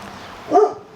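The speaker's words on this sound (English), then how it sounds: "That is the mama dog." A mother dog gives a single short bark outdoors, moderately close, rising briefly above a quiet background hum.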